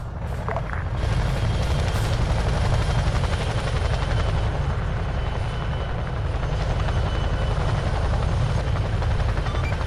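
A helicopter in a Vietnam-era video game repositions to land, its rotor and engine drone loud, steady and close throughout with a faint thumping texture and no talk.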